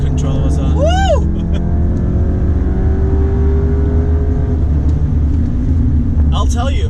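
A big-turbo Focus ST hot hatch pulls at full throttle with traction control on: a steady, droning engine note rising slowly in pitch, heard from inside the cabin, with voices and a whoop over it.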